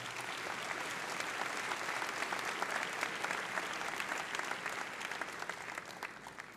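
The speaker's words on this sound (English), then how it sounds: "Round of applause for them as well." Sustained applause from a large audience at a high school graduation ceremony, a steady dense wash of clapping that holds evenly for several seconds at moderate distance.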